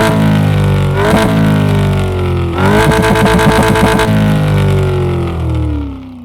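A car engine in a Unity video game revs hard in two sharp bursts, climbing and snarling, then the pitch slides back down and the engine settles into a falling idle that fades, loud and close with no talk.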